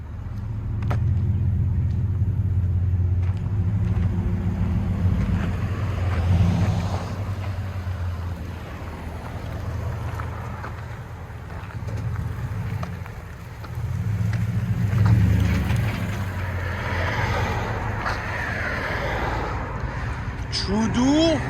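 2010 Toyota Tundra 5.7L V8 with true dual exhaust, Black Widow Race Venom mufflers and 3.5-inch black tips, a deep low rumble that swells twice with revs; people talk over it and wind buffets at times.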